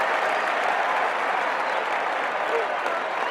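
A crowd audience breaks into sustained applause, a dense steady roar of clapping that stays loud and even throughout without pause.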